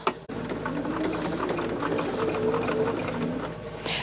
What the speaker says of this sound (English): So let's get over here and get to sewing on this.